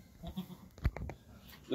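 Young goats on a farm bleat softly a few times amid faint background rustle, the short calls close and fairly quiet with no talking.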